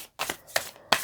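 Angels and Ancestors oracle cards are shuffled by hand in three quick, crisp riffling bursts, close and clear.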